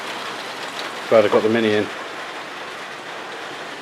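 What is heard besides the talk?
rain falling outside a garage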